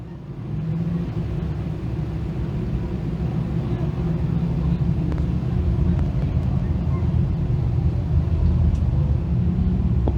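Sportsman race cars in a heat race on an oval track roar past as a continuous, loud, low engine drone with a broad rumble and wind buffeting, without a break.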